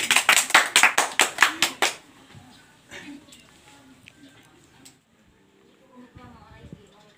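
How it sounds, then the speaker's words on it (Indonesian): About nine sharp hand claps ring out in a quick, regular rhythm close by in a junior high classroom, then stop, followed by quiet room sounds and faint talking. "Ana tepuk tangan dulu dong."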